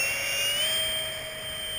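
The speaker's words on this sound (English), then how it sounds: "It's a jet." A jet aircraft engine roars loudly and steadily outdoors, with a high-pitched whine sitting on top of a broad rushing noise that swells and eases slightly.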